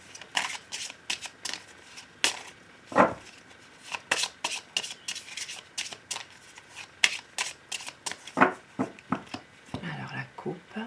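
Tarot cards shuffled by hand for a reading: a rapid run of crisp riffles and slaps, close up and steady, with a brief voice near the end.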